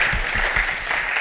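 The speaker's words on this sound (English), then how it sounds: "A round of applause for Mr. Paul." A short stretch of dense clapping from a crowd at an industry summit, loud and continuous, with low thumps and murmurs mixed underneath.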